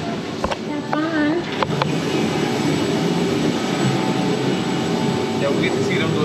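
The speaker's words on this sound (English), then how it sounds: "don't walk towards the back of the helicopter, because the tail rotor and the exhaust are both deadly" A helicopter engine and rotor run steadily at close range, a loud continuous turbine whine and roar, with people talking nearby.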